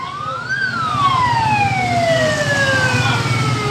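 A fire truck siren wails during a disinfectant-spraying run in Sukabumi, Indonesia, with the district head at the wheel. The loud, close siren sweeps up and then glides slowly downward over steady traffic rumble, and no one speaks.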